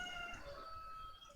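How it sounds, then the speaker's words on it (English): Faint clucking from a neighbor's chicken comes from somewhere in the background, a short run of quiet calls over a constant low hum, with no voices. "I'm not sure if you can hear chicken in the background"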